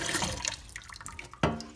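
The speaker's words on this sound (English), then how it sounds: "I'm gonna replace it with some cold water." Cold water splashes and trickles into a cup, close by, ending with a brief louder slosh.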